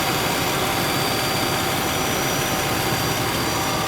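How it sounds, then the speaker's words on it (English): A 2017 Nissan Murano's 3.5-liter 24-valve V6 runs at a steady idle, giving an even, unbroken hum with a low rumble that stays constant throughout. "Here you can listen to the engine."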